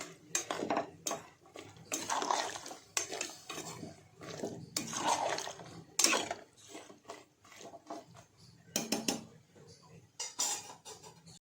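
Bottle gourd curry stirred in a metal pot with a spoon, loud clanking and scraping strokes in irregular bursts, a splash of added water, with a voice speaking between.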